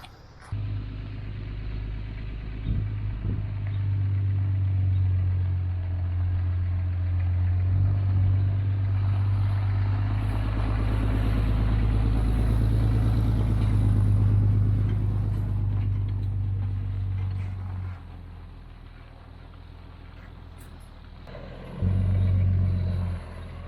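A truck grinds along a dirt power line road through open desert, its engine a steady, close, mid-pitched drone that swells under load, then drops off briefly before picking up again near the end.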